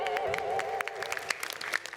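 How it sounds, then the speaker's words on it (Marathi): A studio audience on a comedy show claps for an institution. The brief burst of many hands is moderately loud, with scattered sharp claps over a faint tonal background. "तेव्हा आमच्या संस्थेसाठी एकदा जोरदार टाळ्या झाल्या पाहिजे"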